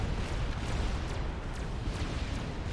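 Dense, continuous rumble of artillery shell impacts from Fat Boy units in the strategy game Supreme Commander: Forged Alliance, a steady barrage of overlapping booms and bursts with no clear gaps, loud and heavy throughout.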